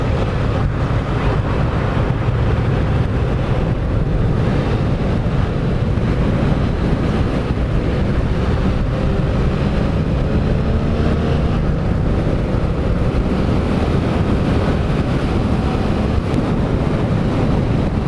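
Strong cold wind buffets the microphone throughout a ride as lockdown restrictions ease, a constant loud low rumble with no talk.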